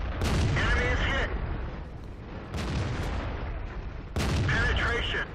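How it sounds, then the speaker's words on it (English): Tank cannon fire in World of Tanks on the South Coast map: three heavy, booming blasts with rumbling tails that hit hard and fill the clip, mixed with game voice cues. "his ally is shooting at me"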